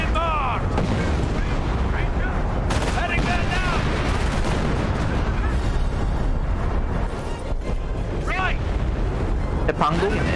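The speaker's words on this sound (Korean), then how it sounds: "장교 포격." Heavy artillery bombardment in a Company of Heroes 4v4 match with British artillery, dense rolling booms and crackling gunfire layered continuously, loud and close, with voices speaking over the barrage.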